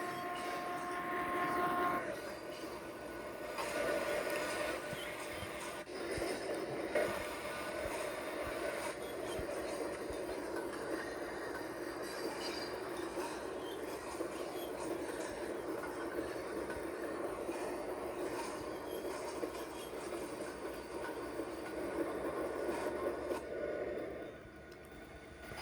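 A train rolls along steadily in a roleplay game scene, a faint continuous rumble with a scraping, droning tone lasting about 25 seconds before easing slightly at the very end.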